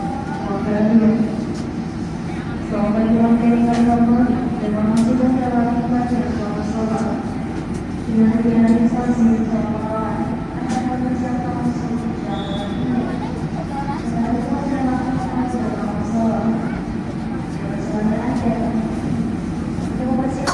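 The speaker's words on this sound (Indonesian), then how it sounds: "Kereta api Joglo Semarkerto melaju perlahan meninggalkan stasiun Purwokerto" The Joglosemarkerto passenger train pulls slowly out of Purwokerto station, a low steady rumble and hum of rolling stock heard up close from on board, with faint squeals throughout.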